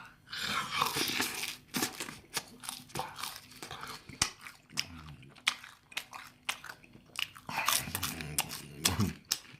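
Crunchy Korean sweet and sour pork (tangsuyuk) being bitten and chewed up close, repeated crisp crunches and wet chewing in an uneven rhythm, with small murmurs between bites.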